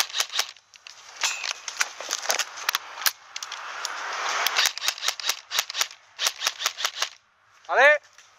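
Airsoft guns firing during a game, with rapid bursts and single cracking shots, some close and loud, others in dense volleys. A person speaks among the shots and a short whistling, rising sound comes near the end.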